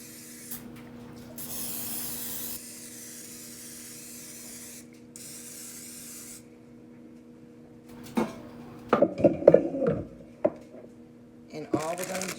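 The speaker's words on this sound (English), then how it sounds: "I'm going to liberally spray my bunt pans here." Cooking spray hisses from a can onto bundt pans in two steady bursts, followed by clattering and handling of the pans, with a person talking.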